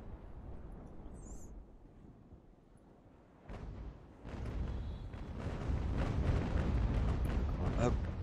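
Naval cannon fire from sailing warships in the battle game Ultimate Admiral: Age of Sail, a deep booming onset followed by a rumbling, swelling barrage, with a voice speaking over it.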